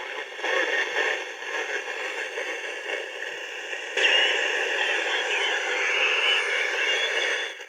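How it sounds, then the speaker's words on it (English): A shortwave AM radio on 40 meters gives off a steady hiss with garbled, warbling single-sideband voice tones that shift and sharpen partway through as the beat frequency oscillator is switched on. "Now it's on, and now it's starting to sound like SSB."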